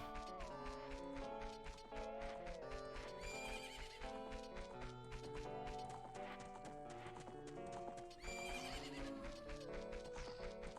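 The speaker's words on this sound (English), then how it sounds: "Horses." In a video game, horses whinny and neigh repeatedly over steady clip-clopping hooves, set against a continuous bed of bright melodic music.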